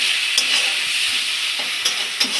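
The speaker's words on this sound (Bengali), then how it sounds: "কাঁচা লঙ্কাটা দিয়েও ভালো করে একটু গ্যাসটা বাড়িয়ে নিয়ে ফ্রাই করে নেব" Slit green chillies fry in spice paste over raised heat, giving a loud, continuous hiss of sizzling oil with a few brief stirring scrapes, close up and without speech.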